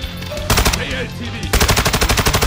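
Rapid automatic gunfire in Call of Duty Warzone DMZ, loud close bursts of machine-gun shots, a short volley, a brief pause, then a longer sustained rattling burst.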